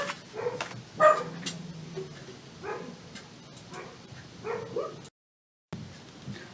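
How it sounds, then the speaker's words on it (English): A dog indoors gives a series of short, moderately loud barks spread across several seconds, followed by a brief silent gap and then one more sound. "Now watch, he's going to bark again."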